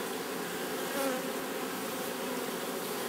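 Honeybees swarm around a beekeeper's hive in the Ebbegebirge, making a dense, continuous buzz that stays steady and close throughout, with no voices.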